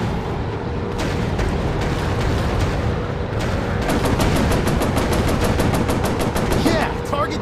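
Sustained automatic gunfire and rapid shots fill a VR war video game battle, loud and dense with overlapping bursts and occasional booms, with a player's voice faintly under the din.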